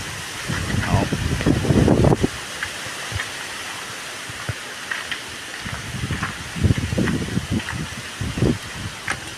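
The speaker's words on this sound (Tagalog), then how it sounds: "Bumilis na naman po ang hangin." Strong gusts roar against the microphone in loud bursts, easing briefly between them, with rustling underneath.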